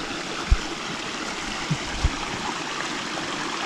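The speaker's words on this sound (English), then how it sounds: "that water just cascades down so many little steps, tiny waterfalls" A small woodland stream cascades over many tiny steps and waterfalls in a steady close rush, broken by a few soft low thumps.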